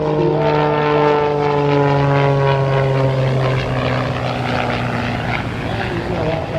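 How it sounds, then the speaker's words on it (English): A Pitts Special aerobatic propeller biplane performing at an airshow, its engine and prop loud and near, the buzzing pitch sliding downward as it passes, with faint crowd or commentary blending underneath. "in the Pit Special, which is a proven airshow performer and an exciting aircraft to watch"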